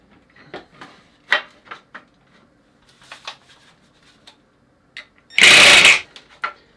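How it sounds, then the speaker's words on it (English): A screw being driven into the side of a homemade roller blade rack gives a single loud burst of a power driver near the end, preceded by scattered light taps, clicks and handling knocks close by. "I'll screw in this side and then pivot it until it's level"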